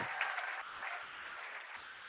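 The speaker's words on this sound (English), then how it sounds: "Let's give it up one more time for African Student Union's Afro State of Mind" Audience applause at a university student engagement and leadership awards ceremony, honoring the African Student Union's Afro State of Mind; a steady, fairly faint wash of clapping from a seated crowd, continuous throughout with no voices.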